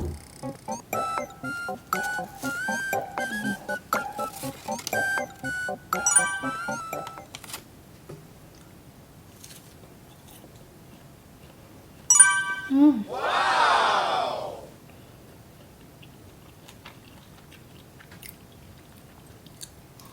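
Someone chews and bites into psyllium husk bread, a flour-free, low-carb loaf, close to the mic. The crisp, squishy bites come in bursts, with a clatter of other sounds before them and a short voice over part of the chewing.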